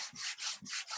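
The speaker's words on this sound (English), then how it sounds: "you can go and take your sanding disc, sandpaper," Sandpaper rasps back and forth over a painted wooden surface in quick, rhythmic strokes, close and fairly quiet, with no voices.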